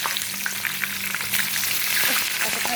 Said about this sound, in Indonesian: Terakhir ya, goreng terong.